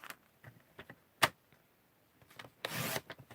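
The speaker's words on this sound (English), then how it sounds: "Yeah, these trimmer blades last much longer." A paper trimmer slices a sheet of floral stamped paper for bookmarks: a few quiet clicks and handling taps, then a short, loud rasping cut near the end, with no voices.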